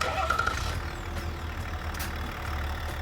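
A 2021 Chevrolet Tahoe High Country's Duramax turbo diesel engine runs at a low, steady idle, a deep rumbling hum with faint mechanical clatter and some background noise.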